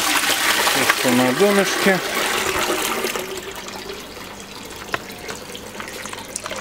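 Water poured into a distiller boiler to rinse it, a loud rushing gush that fades into trickles and drips while someone speaks briefly over it.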